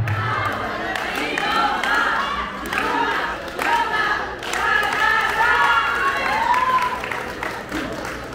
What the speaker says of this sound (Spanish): Que se escuche la porra,